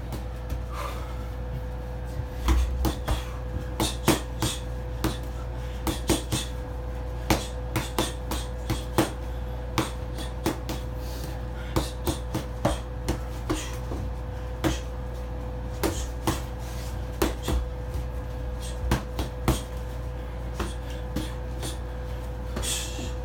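Punches and kicks landing in a self-defence fighting drill against two attackers: sharp, regular impacts repeating steadily over a constant low hum, each hit distinct and fairly close.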